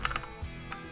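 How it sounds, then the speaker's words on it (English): Quick keystrokes on an ergonomic split keyboard, with the home button pressed several times: a few crisp, close clicks in a short rapid burst, with no voices. "I just hit the home button several times on my keyboard."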